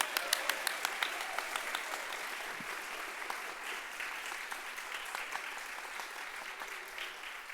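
Audience applause at a public event honoring a physicist's life, many hands clapping at a quiet level. Sharp individual claps stand out at the start over a softer sustained wash.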